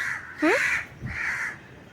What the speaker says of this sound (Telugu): ఏ కాకులు, ఈ కాకులకి ఏమొచ్చింది?